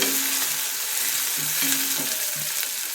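A spatula stirs egg curry with tomato in a hot pan, a close, steady sizzle with intermittent scraping strokes against the metal and no voices.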